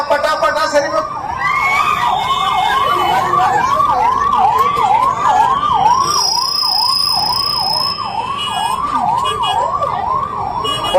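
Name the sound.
ambulance siren passing through a crowd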